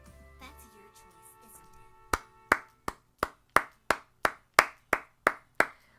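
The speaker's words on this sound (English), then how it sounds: "Let's all take a moment to applaud Yui for being the best fucking character I've ever seen" Hand clapping in a steady rhythm, about a dozen sharp, evenly spaced claps that begin two seconds in and carry over faint game music and background tones.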